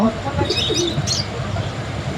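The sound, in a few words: owl pigeons cooing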